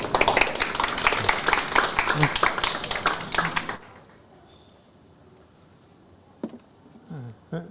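An audience at a lecture gives a welcoming round of applause, a dense burst of clapping for about four seconds that stops abruptly, leaving near silence broken by a faint voice.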